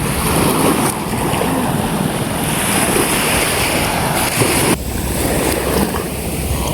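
Large waves roll in at sea beside moored fishing boats, a dense, continuous wash of surf with heavy wind buffeting the microphone throughout.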